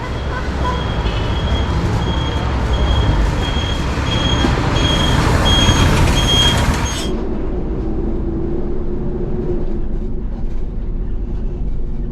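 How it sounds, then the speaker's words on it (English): A heavy vehicle's loud engine rumble and road roar sit close by as a bus pulls in at a rural stop near a Taiwan rainforest, then the noise cuts away abruptly to a quieter low drone. "That's my bus."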